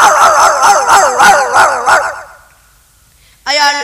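A performer at a school arts festival mimicry stage imitates a dog with a rapid series of loud, close barks, then falls briefly quiet before a final sharp yelp.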